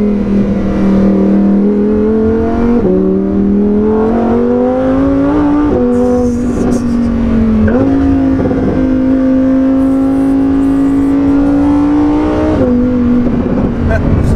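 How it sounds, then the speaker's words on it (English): A new Lamborghini sports car roars past in close flybys, its engine note climbing and dropping sharply with quick downshifts, loud and continuous, with voices talking over it. "We'll try and cut to some beautiful flybys. The downshifts are so much quicker."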